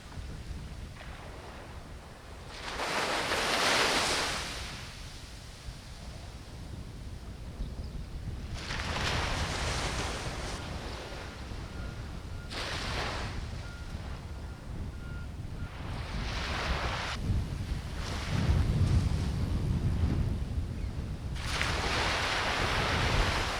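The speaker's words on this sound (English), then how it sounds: "that wind's coming up, Trevs, from the northwest" Northwest wind sweeps over the sea off Gisborne, New Zealand, during a fishing trip, with waves breaking. It makes a continuous roaring wash that swells and fades in repeated surges, loud and close.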